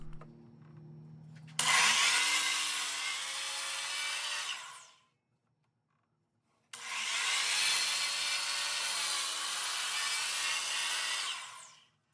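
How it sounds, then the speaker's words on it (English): A miter saw cuts strips of scrap wood in two loud passes of about three seconds each, with a brief motor whine as it spins up and a fully silent gap between the cuts. "we're going to take it back to the miter saw and cut strips again"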